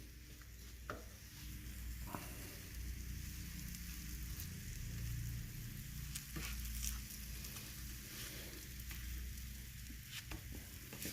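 A sandwich grilling in a pan gives off a faint, steady sizzle throughout, with a few small clicks and taps, close but quiet and without speech.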